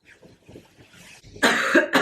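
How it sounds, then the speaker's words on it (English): Scratchy cough from a cold in a person taking immunosuppressants after a multiple sclerosis diagnosis: after some quiet voice-like sounds, two loud, close, harsh cough bursts. "I woke up with like scratchy cough, scratchy throat"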